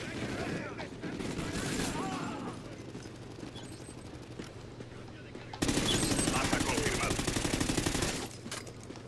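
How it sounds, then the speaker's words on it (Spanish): Rapid automatic gunfire in an online multiplayer match of Call of Duty Ghosts, with sustained bursts in the distance that grow louder and nearer partway through, while someone talks over it. "por aquí veo tiros. Pues ya donde haya tiros allá voy"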